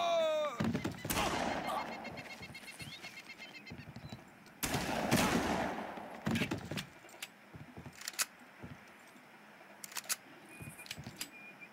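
Gunfire in the video game Far Cry, sharp loud bursts of shots with clicks and metallic clatter between, two heavy volleys then scattered single cracks fading to quieter ticks.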